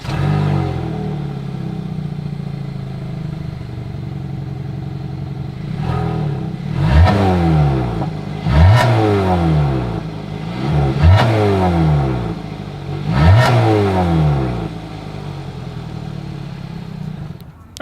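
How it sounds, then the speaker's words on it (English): A 2022 Hyundai Tucson SUV idles with a deep exhaust burble, then revs sharply four times in a row, each rev rising and falling back to idle. "As always, here is that exhaust clip."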